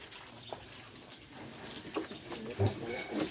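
Pigs and piglets on a small farm grunting and squealing in short, scattered calls under a person speaking, with a noisy outdoor background throughout.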